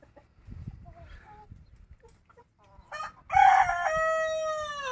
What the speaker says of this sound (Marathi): हा आपला सोनाली जातीचा कोंबडा आहे कसा आहे